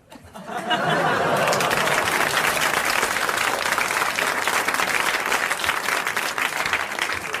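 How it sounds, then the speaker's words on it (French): A television studio audience bursts into loud, sustained applause with cheering, the dense clapping swelling in quickly and holding steady to the end. "la foule est en délire"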